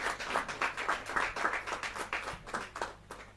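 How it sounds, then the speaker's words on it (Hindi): An audience at a kavi sammelan poetry gathering claps vigorously, a dense burst of close hand claps pulsing in quick waves that fade slightly toward the end. "जोरदार ताली के साथ"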